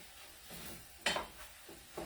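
Eggs cook in a breakfast pan with a faint, low sizzle, broken by a few soft scraping strokes of a utensil close by.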